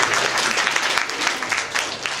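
A big round of applause from a sorority chapter audience, loud, dense clapping sustained throughout with a slight crowd murmur underneath.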